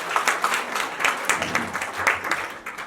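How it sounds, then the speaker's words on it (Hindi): An audience at a teacher training workshop applauds, the clapping steady and dense with a few sharper bursts rising out of the crowd noise, with no talk over it. "संगीत सर के लिए जोरदार तालियां प्लीज"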